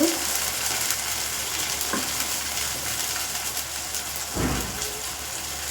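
Vinegar and soy sauce go into a pan of frying cabbage manchurian, and a steady loud sizzle hisses throughout with a brief louder splash of liquid near the end. No one speaks.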